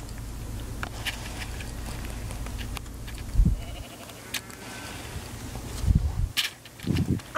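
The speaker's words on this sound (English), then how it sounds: "I just heard some sheep." Sheep bleat a few times at a distance at a dirt rally event, short calls over soft outdoor wind and light shuffling.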